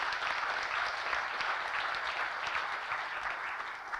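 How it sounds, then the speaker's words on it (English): Audience applause fills a university integration forum on the ODU-EVMS merger, a steady wash of many hands clapping that holds evenly from start to finish with no voices over it. "Let's give them a round of applause and thank them."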